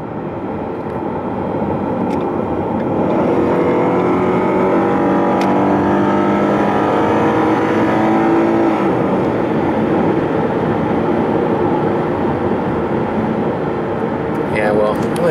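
A rented Ford Mustang cruising on a Montana highway, a steady broadband road and engine drone with wind and tire noise running unbroken and loud throughout, no speech over it.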